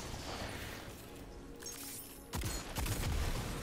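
Ace of Spades hand cannon fire and chained explosions in the Destiny video game, heard as a dense, steady wash of distant blasts that builds to several louder, close booms and crashes in the final second and a half.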